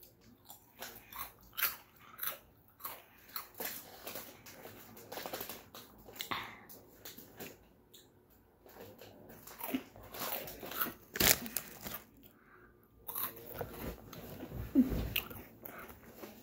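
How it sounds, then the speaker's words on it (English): Crunchy chewing and biting while someone eats up close to a microphone, a run of irregular crisp crunches and bites that swells and fades over the stretch, with no talking. "a little crunchy noise, like what I'm doing."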